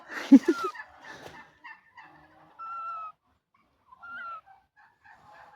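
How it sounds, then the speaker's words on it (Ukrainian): A pet bird, most likely a fowl such as a chicken or goose, gives a loud harsh call at the start, then a series of shorter, fainter calls with pauses between them, heard alone without speech. "Мій хороший птах."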